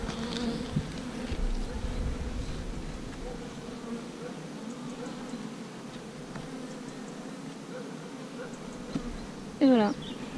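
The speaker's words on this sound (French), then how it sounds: "on va mettre un petit coup de fumée pour que les abeilles redescendent" Honeybees hum at an open beehive after a puff of smoker smoke, a dense, steady buzz close by throughout, with a brief louder sweep near the end.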